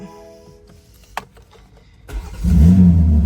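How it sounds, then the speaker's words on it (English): A previously wrecked BMW M4 Competition cranks briefly, then its engine fires and catches with a loud, rising rumble that settles into a strong idle, recorded up close. "Check that out, cranks right up."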